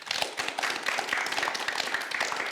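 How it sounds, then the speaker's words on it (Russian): An audience at a youth discussion event applauds, with many distinct hand claps forming a lively, rhythmic patter at moderate loudness and no talking over it. "Аплодисменты."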